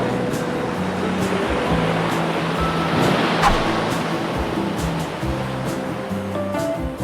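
Steady surf washing onto a Punta Cana resort beach with turquoise water, a broad continuous roar of breaking waves that swells slightly midway and carries on without pause, fairly loud and close.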